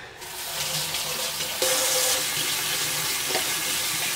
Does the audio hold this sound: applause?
no